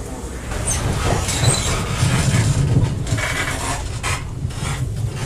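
Loud, continuous rumble and rattle inside a moving train carriage, with grinding, rasping wheel noise and faint voices in the background.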